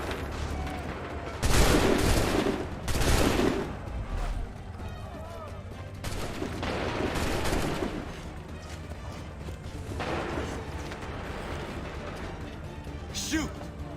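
Loud broadband bursts of musket volley fire on an Assassin's Creed III battlefield, two heavy blasts early and more volleys later amid shouted voices and battle noise.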